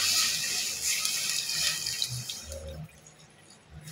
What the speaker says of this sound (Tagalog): lalagyan na natin siya ng sabaw